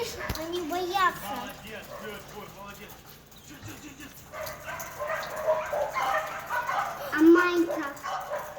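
Dogs bark and yip excitedly in Alaska as they chase a moose, the sharp yelps rising and falling through the scene while several people, including children, talk over them.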